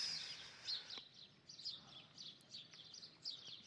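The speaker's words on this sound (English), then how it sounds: "the chippering, joyful mornings of the birds" Birds chirp and twitter in a quiet morning setting, several faint calls repeating at a moderate distance over soft background hiss, with no voices.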